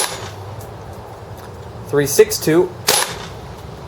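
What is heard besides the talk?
WE G36C gas blowback airsoft rifle shots over chronograph, propane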